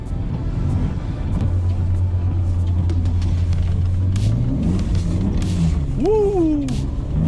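A BMW 328ti drives and drifts through a snowstorm, its engine a steady loud rumble that swells and revs in bursts, with a rising and falling whine near the end.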